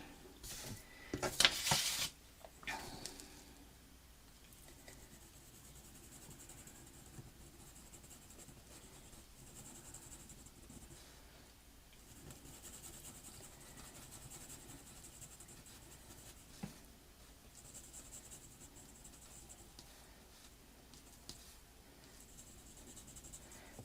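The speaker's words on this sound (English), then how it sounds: "the HB pencil for step 2" An HB pencil drawing on paper while sketching a mountain landscape, giving faint, soft scratching strokes close up, with a brief louder burst of scribbling near the start and then a quiet steady rasp.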